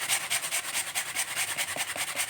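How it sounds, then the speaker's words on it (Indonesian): A Modern-brand electric sander works a wooden horsebow, producing a steady, close abrasive rasp with a fast rhythmic pulsing throughout, with no voices. "digunakan alat seperti ini adalah alat amplas listrik ya, merek modern"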